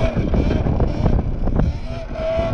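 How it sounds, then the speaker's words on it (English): Strong wind at the seaside buffeting the microphone, a loud, continuous rumbling roar with gusty swells throughout. "That wind is strong."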